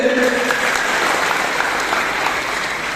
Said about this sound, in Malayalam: ഒന്നുകൂടി കൈയടിച്ച്.